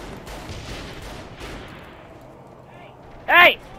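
Gunfire in the video game Saints Row The Third: a few blasts ring out over a busy background, and then a single sharp, loud burst stands out near the end.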